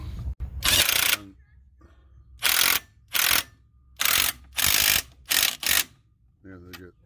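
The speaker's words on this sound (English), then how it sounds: "Now I'm gonna run these up on socket" Bursts of rapid ratchet clicking from a socket wrench running up bolts on a 2000-2007 Chevy Impala front strut, several short runs separated by pauses, close up, with a brief murmur near the end.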